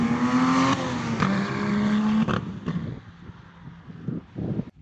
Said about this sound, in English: Oh, we can hear the high-powered supercars.